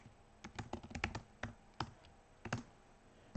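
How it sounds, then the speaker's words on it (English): Keys clatter on a computer keyboard as SQL code is typed, an uneven run of close, crisp clicks with short pauses between bursts and no voice over it. "let's type this out how it should be."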